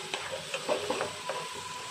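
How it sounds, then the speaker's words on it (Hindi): Onions frying in a pan with turmeric powder being stirred in, a soft sizzle under quick, rhythmic scrapes and dabs of a spoon over about two seconds. "यहाँ पे मैंने हल्दी पाउडर ऐड कर दिया है और इसको अभी अच्छे से मिला लेंगे प्याज के साथ"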